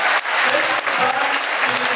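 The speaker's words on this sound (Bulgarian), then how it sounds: "тук аплодисменти за тях" Audience applause for primary school students at a charity concert, dense steady clapping filling the hall from start to finish with no voices over it.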